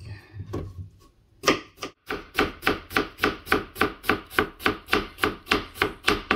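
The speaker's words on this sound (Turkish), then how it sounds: "Soğanlarımızı ince ince kıyıyoruz." A knife finely chops onions on a cutting board for pasta al forno, a rapid, even series of about fifteen crisp, close taps after a few softer initial cuts, with no talking.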